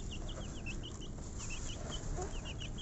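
Many broiler chickens clucking and peeping at once in a busy, constant chatter, close by over a steady background hum.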